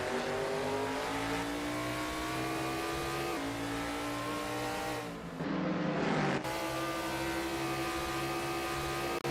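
Race cars in a Cobra series sim racing game roar past with engines revving through the gears in rising whines. A brief dip midway gives way to another car charging close by at full throttle.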